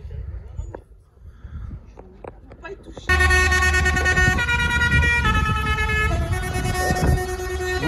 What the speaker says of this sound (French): vous adoriez quand les klaxons sont en action.